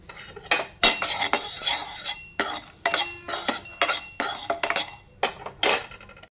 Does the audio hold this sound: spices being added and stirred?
yes